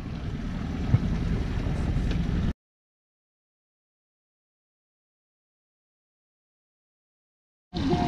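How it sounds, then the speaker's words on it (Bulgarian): Wind rumbles and buffets against the microphone at a reservoir during catfishing, loud and close, cutting out to silence midway before returning briefly at the end. "Обаче излезе вятър."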